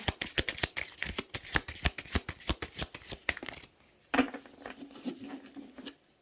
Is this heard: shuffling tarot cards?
yes